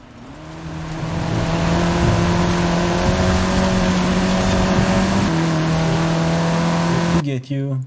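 Stock Alpine A110 engine in Forza Horizon 5, a loud, steady sustained drone that builds up over the first seconds, shifts pitch midway, then cuts off abruptly near the end.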